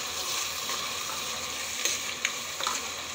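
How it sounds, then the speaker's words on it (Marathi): Ground masala paste frying in oil for a baingan dish, a bright dense sizzle throughout with a few stirring scrapes toward the end, close up and without voices. "पूर्ण मसाला टाकल्यावर तेलात फ्राय होऊ देऊ छान मसाला"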